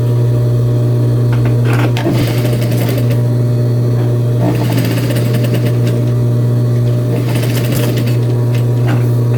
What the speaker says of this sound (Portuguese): Agora a parte das costas já posso ir para o overlock